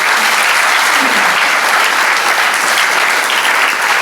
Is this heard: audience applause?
yes